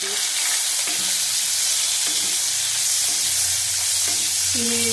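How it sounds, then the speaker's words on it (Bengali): Tomato fries in hot oil with a chili in a pan, loud continuous sizzling with a few scraping stirs of a spatula, close up and without any voices. "একটা টমেটো ভেজে দিলাম।"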